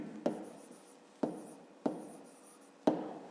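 A pen marks paper during a fifth-grade maths lesson: four separate, close scratchy strokes spaced unevenly, each fading quickly, with quiet in between.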